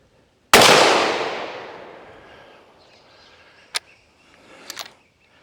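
A gunshot fired through a tyre cracks out sharply and close, its loud blast trailing off over about two seconds, followed later by a couple of smaller, sharper cracks.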